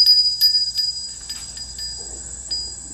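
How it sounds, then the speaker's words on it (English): A wind chime hanging on a cottage porch rings in a few bright, clear metallic tinkles at irregular intervals, fairly near, then fades to quiet background. "I just thought I'd show Mary I hung the wind chime"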